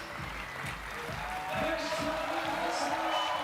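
Applause from the crowd at a women's bouldering final in Prague 2023, steady clapping that swells slightly, heard under a commentator talking.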